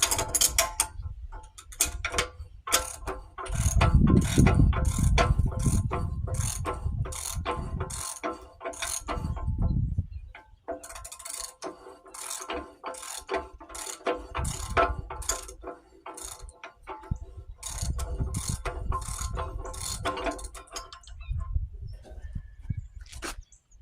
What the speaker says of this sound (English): I might have to bring out my 3/4 drive. But 1/2 inch drive, we'll just have to do.